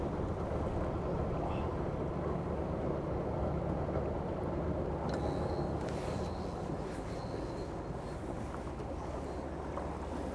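A light electric boat driven by a Bellmarin electric motor turns on open water, giving a steady broadband wash of water and wind noise with a faint high motor whine joining midway.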